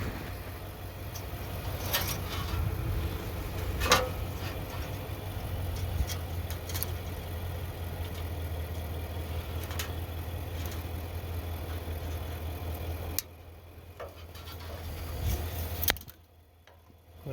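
A 1970 John Deere 2120 tractor engine idles with a steady low rumble throughout, a few clicks and knocks over it, then cuts out abruptly near the end.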